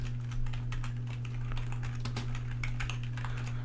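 Steady, quick typing on a computer keyboard, a continuous patter of close key clicks over a constant low electrical hum, with no voices.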